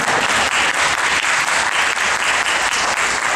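Audience applause at a Nolife conference at the Tokyo Game Show 2012, dense and sustained clapping at an even level throughout.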